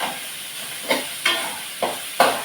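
Vegetable noodles frying in oil in a pan, with a steady hiss of sizzling broken by four sharp bursts of spitting or stirring at regular intervals, close by and with no voices.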